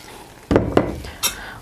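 A couple of quick metallic clinks and scrapes of a spoon against a glass jar of marinated bell peppers in oil, close up, with no voices.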